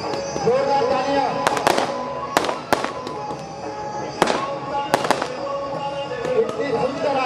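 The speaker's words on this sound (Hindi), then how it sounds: "इतनी सुंदर सुंदर आतिशबाजी आपको देखने को मिल रही है" Fireworks burst repeatedly at a Dussehra festival in Azadpur, several loud cracking explosions ringing out over crowd noise and someone speaking through an amplified system.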